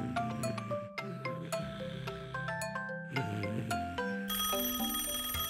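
A telephone rings in an animated cartoon about a police car and a tow truck, sounding as bright, repeated electronic ring tones that stand out loudly with no talk over them.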